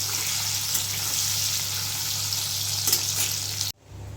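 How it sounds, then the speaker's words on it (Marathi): Paneer shallow-fries golden in oil, a loud, dense, continuous close sizzle with a faint low hum beneath, cutting off abruptly near the end. "आज पनीर हलके फ्राय करून घेतले ना गोल्डन फ्राय तर छान होतात"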